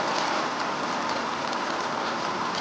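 Steady, dense rain falls as a continuous broadband hiss, loud and close, with no breaks and no voices.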